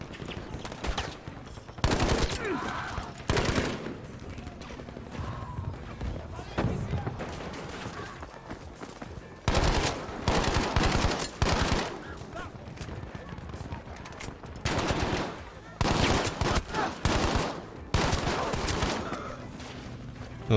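Bursts of Breda PG 1935 fire in Battlefield 5, loud repeated rapid volleys with short gaps between them, heard up close against a busy battlefield backdrop.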